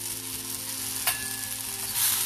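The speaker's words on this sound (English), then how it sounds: "Now we are going to cook until tomatoes become soft." Tomatoes with salt and coriander cook in a pan, giving a steady, dense sizzle throughout with one brief stirring scrape partway, close and without speech.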